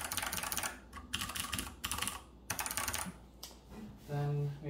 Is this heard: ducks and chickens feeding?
no